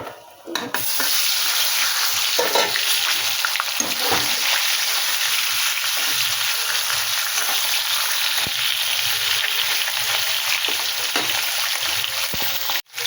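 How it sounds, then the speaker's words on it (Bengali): The remaining pieces of shankar fish (stingray) fry in oil in a kadai, a loud, steady, close sizzle with occasional crackles and faint stirring scrapes, no one speaking. "আর বাকি মাছটা আবার ভেজে নেব।"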